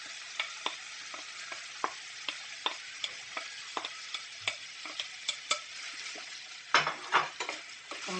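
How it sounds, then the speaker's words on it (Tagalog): Pork and corn being stirred in a frying pan, a steady run of sharp utensil scrapes and taps over a soft sizzle, with a louder clatter near the end. "Pagkatapos, guys, ilagay natin yung mais. Halo-halo lang yan, guys."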